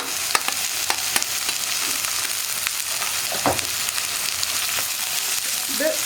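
Sliced onion and green chillies for a tomato potato curry being stirred and fried in oil in a pan: a steady sizzle with scattered scraping clicks of the spoon and a few clunks, close and alone.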